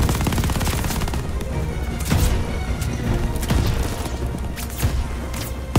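Rapid automatic gunfire from a machine gun in the video game Call of Duty: Vanguard, sustained bursts with sharp booming impacts and crashes over a dense battle din, loud and continuous throughout.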